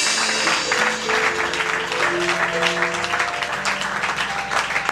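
A church congregation claps and cheers in praise of Jesus during a pastor's service, a dense, steady roar of applause filling the room from start to finish, with sustained organ-like musical tones humming beneath it.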